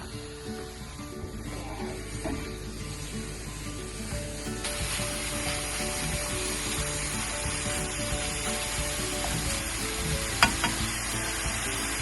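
Breakfast sausage sizzles and fries steadily in a pan at a campsite in Big Bend, Texas, a continuous crackling hiss with occasional sharper pops, fairly close and with no talk over it.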